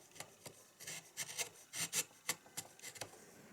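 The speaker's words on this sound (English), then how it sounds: "clean up the ridge by holding the gouge on its side. Then carve against the grain," A carving gouge slices against the grain of wood while shaping swallow wing feathers, giving a series of short, close scraping strokes in an irregular rhythm with no talk.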